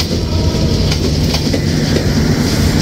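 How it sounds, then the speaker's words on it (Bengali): Rupsha Express rolls in behind a PT Inka 16-model locomotive at a Bangladeshi station, a steady loud rumble of wheels and carriages with faint clickety-clack throughout, no voices. "পিটি ইনকা 16 মডেল নিয়ে প্রবেশ করছে রূপসা এক্সপ্রেস।"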